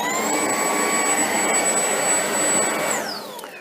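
Shark ION P50 cordless vacuum running in handheld mode with extended wand, a steady close whine of the motor that winds down in pitch as it switches off at the end.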